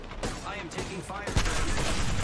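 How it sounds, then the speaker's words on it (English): Rapid gunshots and impacts in the shooter Apex Legends while taking fire, a dense close burst with a sharp hit partway through, mixed with a player's speech. "I am taking fire."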